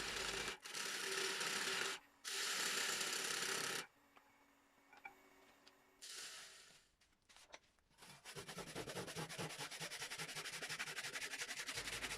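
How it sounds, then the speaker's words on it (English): A 5/8-inch ball gouge cuts into a cracked birch log spinning on a wood lathe, producing loud rough bursts of cutting noise broken by quieter gaps, then a steady sustained cut near the end. "5/8" ball gouge to take off the cracked part of the log"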